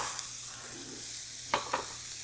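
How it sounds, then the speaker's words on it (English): Bacon and diced red onion sizzle quietly in a skillet with pork chop drippings, a soft steady hiss broken by two brief scraping stir sounds near the end. "The onions are going to start to become translucent. The bacon is going to render its fat for us."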